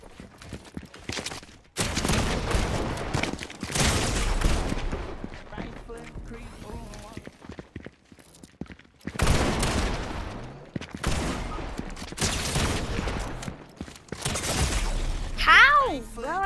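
Gunfire in a shooting video game: repeated loud bursts of automatic fire broken by short pauses, with speech heard in between.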